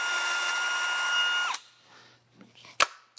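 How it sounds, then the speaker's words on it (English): A power drill fitted with a 1/4 inch bit whirs steadily for about a second and a half while cleaning oily gunk from a babbitt bearing on a bandsaw, then winds down, followed by quiet handling and a sharp metallic clack. "Got a 1/4 inch drill bit in here, which looks like it was what that was originally."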